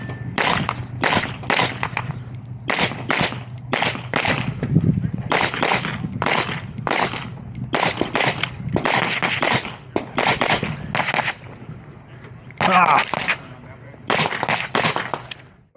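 Rapid pistol gunshots ring out at a USPSA major match stage on an outdoor range, with close, loud strings of shots and brief pauses between groups.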